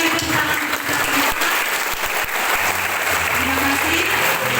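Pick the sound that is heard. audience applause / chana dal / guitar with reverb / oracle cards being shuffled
audience applause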